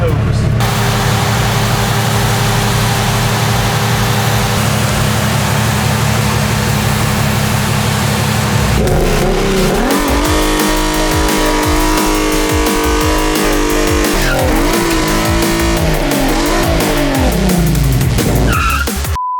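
A VW VR6 Cabriolet does a burnout on wet pavement, its engine droning loudly and then revving hard as the tires spin and squeal, rising and falling close by in a continuous roar.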